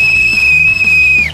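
A whistle sounds one long, loud, steady shrill blast at a kids' WWE-style obstacle course, dropping off sharply at the end, with music underneath.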